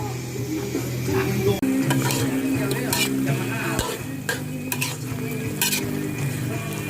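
Chicken with pla ra being stir-fried in a pan, a steady sizzle with repeated scraping and clinking of a utensil against the pan, several sharp knocks standing out, close and continuous.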